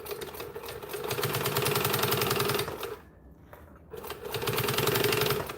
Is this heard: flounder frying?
no